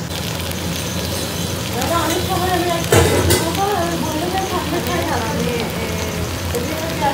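Eggplant slices sizzle and crackle in hot oil in a home kitchen pan, a steady spattering hiss with occasional pops, while someone talks over it.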